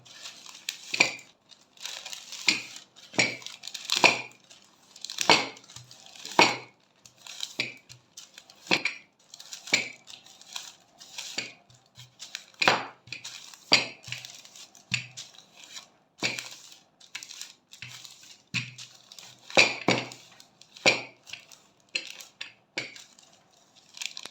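Dough for a Russian-style dessert rolled between sheets of parchment paper with a rolling pin, heard as repeated close crinkling, rustling strokes in an uneven rhythm, with quiet pauses between passes.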